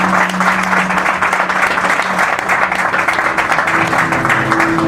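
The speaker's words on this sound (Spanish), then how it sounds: "Un aplauso." Studio audience applauds at a paranormal-themed talk show, a loud, steady wash of many hands clapping that continues unbroken throughout.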